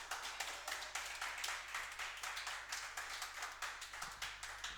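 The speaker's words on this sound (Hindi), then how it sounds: "ताली बजाइए" Students clapping together in a classroom, a fairly faint and steady run of quick claps that continues for several seconds, with no voices.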